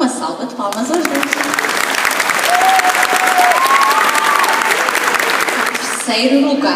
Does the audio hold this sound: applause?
yes